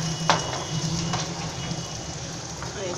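Steady hiss of a hot oil tempering sizzling as it is poured into chutney, a continuous crackling spatter close by with a few brief pops.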